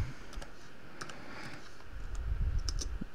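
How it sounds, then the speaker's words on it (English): Quiet one-finger typing on a computer keyboard, with sparse, irregular key clicks spaced apart at close range and no talking. "Yes, that's me typing with one finger."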